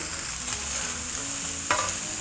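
Chopped onions and chicken sizzle steadily in a hot pan while a utensil stirs and scrapes, with one sharp clack partway through.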